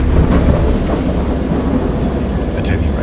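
Thunderstorm in the horror video game Dagon: a deep, loud rumble of thunder with steady heavy rain, a continuous dense wash of storm noise with no break.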